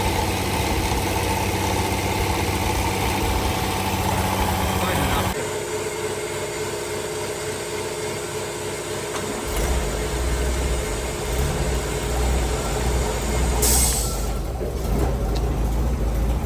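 An old ute engine, started in gear, runs with a steady mid-pitched idle and vibration, close by and loud throughout, with the tone shifting partway as the engine settles.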